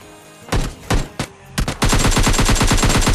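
Video game gunfire: three separate loud single shots, then a sustained rapid automatic burst of machine-gun fire, close and dominant with no talk.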